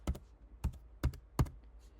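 A few separate keystrokes on a computer keyboard while typing a search term into effects presets in Premiere Pro, four crisp clicks spaced out over a quiet background.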